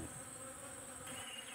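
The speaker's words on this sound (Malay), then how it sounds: "Lepas tu kita tengok lebah tu akan pergi dekat madu yang mana." Bees buzzing around samples of tualang honey, a dense continuous hum from many insects heard steadily and fairly quietly with no talking.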